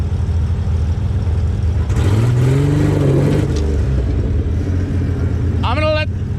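Car engine revving as it strains to move forward up a hill during a vehicle recovery, a loud rising and falling drone close by, with a person talking briefly near the end.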